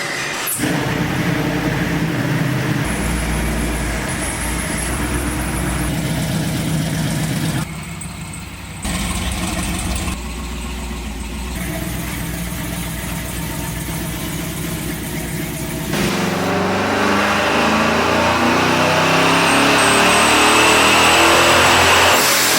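A custom supercharged LS-swapped C10 pickup truck engine idles and revs loudly up close, its rumbling roar rising and falling in bursts before climbing into a sustained high-rpm blare.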